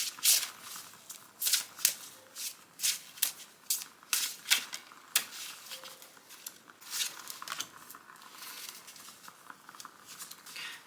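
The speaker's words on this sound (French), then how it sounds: "Elles sont pas très faciles à battre parce qu'elles sont un peu grandes pour mes mains" Large oracle cards are shuffled by hand, producing a rapid series of crisp papery riffles and slaps in an uneven rhythm, close and moderately loud, with no talking.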